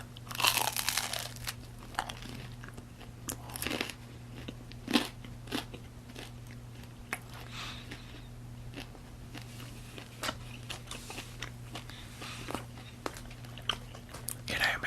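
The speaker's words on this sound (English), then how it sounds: "Maybe this next crust, maybe we'll stick it out real crunchy though." Crunchy pizza crust bitten and chewed close to the microphone, with sharp intermittent crunches spread across a quiet background hum.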